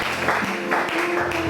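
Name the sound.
congregation applauding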